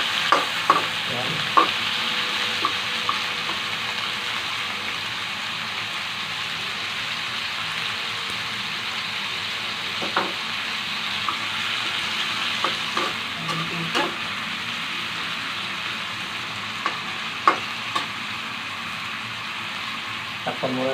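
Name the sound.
vegetables being stir-fried in a pan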